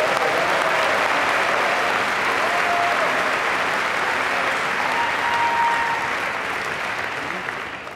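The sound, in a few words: audience applause at diploma ceremony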